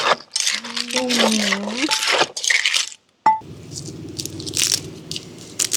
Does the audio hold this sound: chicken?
no